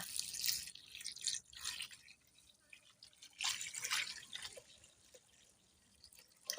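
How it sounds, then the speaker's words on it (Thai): Water pours into a pot of beef hot-pot soup, producing soft, uneven splashing and trickling close by, fairly quiet and fluctuating in strength. "เสร็จแล้วเติมน้ำค่ะ"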